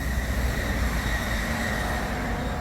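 Steady rumble of trains, cars and trucks passing beside Swiss vineyards, a continuous broadband roar from nearby traffic with no distinct individual events and no voices.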